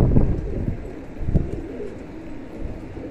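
Pigeons cooing in short low bursts near a rooftop pigeon loft, with a couple of louder coos standing out over steady background noise.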